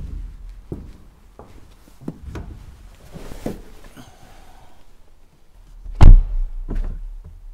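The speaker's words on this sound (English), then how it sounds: "Let's open the door again for the rear. There you can notice the coupe style with the frameless doors." The rear frameless door of a 2022 Mercedes CLA 45 S AMG coupe is handled, with soft clicks and taps and then one solid, close thunk as it shuts, followed by light rustling.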